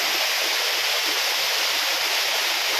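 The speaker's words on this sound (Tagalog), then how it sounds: "Ayan, ito sa kabila, falls din po ito guys" Engcanto Falls in Bikal, Libmanan, Camarines Sur roars in a dense, continuous rush of water, loud and steady throughout.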